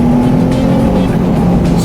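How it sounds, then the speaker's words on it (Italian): A Nissan 350Z engine with a burnt clutch roars loudly and continuously at close range, its pitch wavering slightly. "Sentila. un bel motorello."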